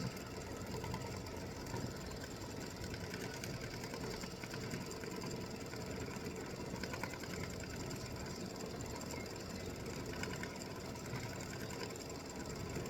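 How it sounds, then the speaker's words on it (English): An embroidery machine stitches side panels in the hoop with a quiet, continuous rapid mechanical chatter of needle and gears at a steady pace. "Now it is going to stitch on the side panels too."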